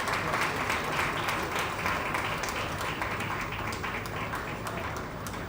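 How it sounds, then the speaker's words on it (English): Sustained audience applause fills a formal awards ceremony honoring African business leaders, steady and dense throughout with no speech over it. "Please, one more time, a round of applause."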